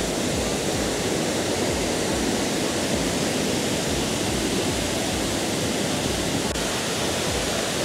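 Kuang Si Waterfall in Laos roars as a steady, dense wash of falling water, loud and close, with no pauses for the whole stretch.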